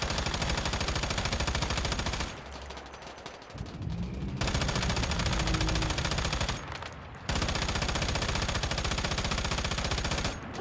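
Sustained automatic gunfire from a firefight in the survival shooter Once Human, dense rapid bursts filling most of the span with a couple of short lulls between volleys, loud and close.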